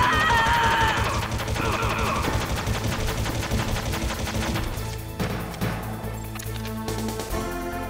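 Gunfire in the video game Metal Gear Solid, heard as dense, loud bursts of rapid shots over game music and effects that keep going without a break through the whole clip.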